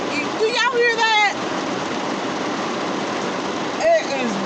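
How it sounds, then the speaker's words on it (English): Steady rain falling outside a car, a constant hiss throughout, with someone talking over it near the start and again briefly toward the end. "it is raining. Y'all, do y'all hear that?"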